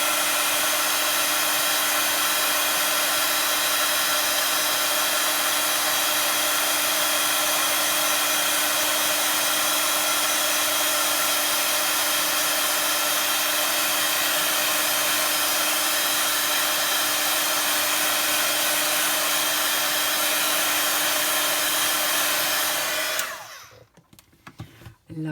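A heat embossing tool blows hot air onto embossing powder on a stamped card, a loud constant whirring hiss that runs unbroken for over twenty seconds before cutting off abruptly near the end.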